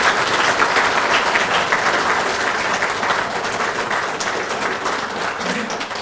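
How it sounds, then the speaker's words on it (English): Sustained applause from a big crowd at a committee meeting, steady and loud for the whole stretch. "Can we get a round of applause for law enforcement?"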